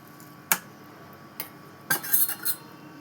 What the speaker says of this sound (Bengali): আমটাকে আমি কেটে নেব এইভাবে।